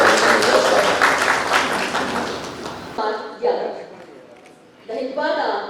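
An audience claps loudly for a few seconds, then the applause cuts off and someone speaks in a quieter room.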